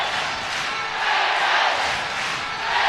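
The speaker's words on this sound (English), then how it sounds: "So much noise from the crowd." Crowd noise fills a basketball arena during a game, a steady broad roar that swells slightly midway and again at the end, with no clear voices standing out.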